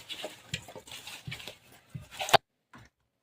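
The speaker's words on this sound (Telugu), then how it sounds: "పసుపు సగం స్పూను, చికెన్ మసాలా ఇవన్నీ వేసిన తర్వాత బాగా ఇట్లా మిక్స్ చేయండి" A spoon stirs chicken with turmeric and chicken masala in a pot for chicken dum biryani, giving soft scraping, patting strokes in an irregular rhythm, close and fairly quiet, ending in a sharper clink.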